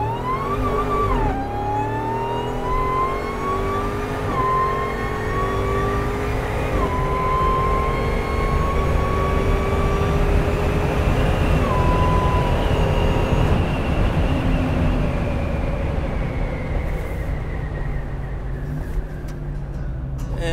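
A Dodge Demon with the AMW 840 package, an 840 hp turnkey build in Sting Gray, accelerates hard from 0 to 100 with a loud, sustained engine roar and whine that climbs through several gear shifts before easing off at the end.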